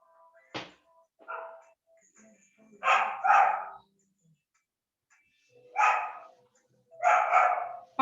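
A small dog barks in a handful of short, separated bursts, fairly close but moderately quiet, with gaps of silence between them.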